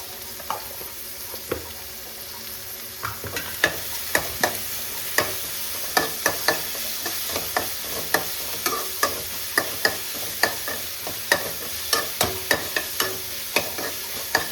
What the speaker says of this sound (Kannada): Next 1 spoon ginger garlic ಪೇಸ್ಟನ್ನ add ಮಾಡ್ತಾ ಇದ್ದೀನಿ.